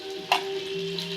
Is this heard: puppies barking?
no